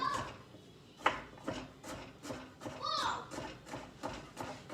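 Children play and chatter in the background of a home kitchen, faint and distant, with scattered voices and small knocks rising and falling.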